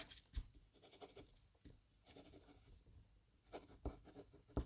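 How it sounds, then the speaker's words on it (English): Pen scratching across paper in a quiet close-up setting, a few short bursts of writing strokes with soft pauses between, faint and intimate with no talking. "I'm gonna write it down here."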